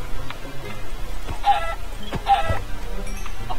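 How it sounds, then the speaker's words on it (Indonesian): Chickens clucking in Minecraft survival mode, two short clucks close by over a constant low in-game background. "Ada ayam."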